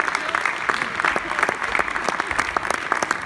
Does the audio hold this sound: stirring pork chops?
no